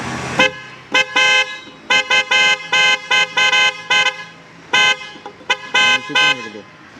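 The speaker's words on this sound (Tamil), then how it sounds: "இந்த ஹார்ன் செம்மையாக இருக்குது கைஸ்." Car horn tested in repeated honks, short and longer blasts in an irregular rhythm, loud and close, with brief gaps between presses.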